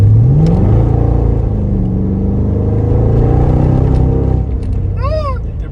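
A Mercedes SL55 on coilovers accelerates hard and breaks traction, its engine roaring loud and steady with a brief rising whine near the end.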